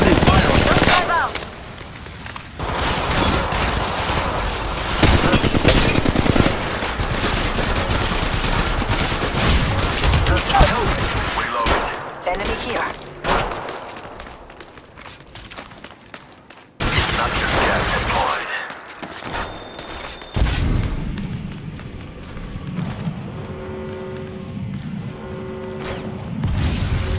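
Dense rapid-fire gunshots and explosive bursts in the mobile game Apex Legends Mobile, loud and sustained for long stretches, then breaking off into quieter gaps with game effects and brief voice lines.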